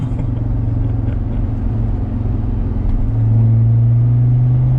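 A Land Rover Discovery 2 turbo diesel with a Stage 3 tune and variable-geometry turbo accelerates hard from inside, its steady low engine drone swelling louder and deeper past the three-second mark as it pulls.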